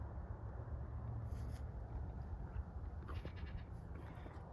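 Goats, including a mother goat and young kids, bleat on a backyard goat playground. Two or three short, faint, distant cries rise above a steady outdoor rumble.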